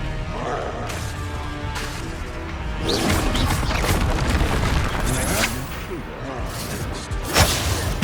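Spell combat in Hogwarts Legacy on PS5 brings whooshes, crashes and booming impacts in quick bursts, including the Expelliarmus spell, loud and close over game music, with voices speaking at moments.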